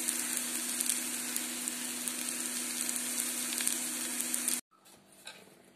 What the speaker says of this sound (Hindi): अब इसमें मिक्स कर दूंगी मैं ये सब्जी जो मैंने तल के रखी थी।